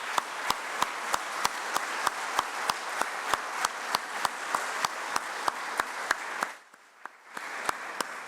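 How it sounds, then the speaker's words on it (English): A forum audience gives a round of applause, heard as a steady, even run of sharp claps at a regular rhythm. The clapping continues for several seconds, drops to near silence briefly, then resumes. "we'd love to give you a round of applause"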